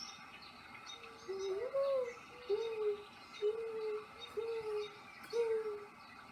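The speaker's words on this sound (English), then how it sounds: "Let's try with the dove." Mourning-dove-style cooing from a recording, about five soft, low, drawn-out coos in an even rhythm, moderately close over faint background hiss.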